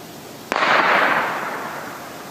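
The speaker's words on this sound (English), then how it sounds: "Somebody just shot over into the woods." A single sharp gunshot fired into the woods, a near crack followed by a long rolling echo that slowly fades through the trees, with no voices.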